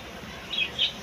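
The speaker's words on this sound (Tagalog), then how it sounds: "ang ating African lovebird, blue." Two brief high chirps from a blue African lovebird, a short pause between them, over a faint steady background hiss.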